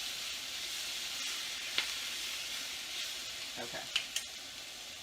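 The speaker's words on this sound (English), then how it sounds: "Stir that garlic in." Garlic sizzles in a pan as it is stirred: a steady, close frying hiss with a few sharp utensil clicks and scrapes near the end, and a brief spoken word.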